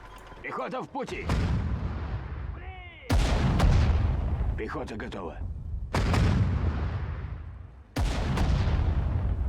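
Artillery in a Sudden Strike 4 World War II strategy game fires four heavy booming shots at regular intervals, each with a long rumbling decay, while a voice speaks between the blasts.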